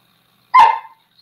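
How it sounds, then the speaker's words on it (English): A single sharp bark from a dog, close and loud, is followed by quiet. "Stop, dog."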